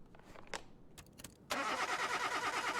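Car engine cranking on the starter during a compression test, a few faint clicks and clatter giving way to a loud, steady whirring crank that holds to the end.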